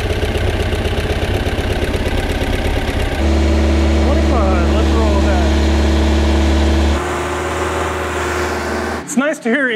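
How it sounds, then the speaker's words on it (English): A boat engine idles loud and steady with a deep, even drone that shifts tone partway through before cutting off abruptly near the end, with a voice talking over it. "To hear an engine that's not ticking away"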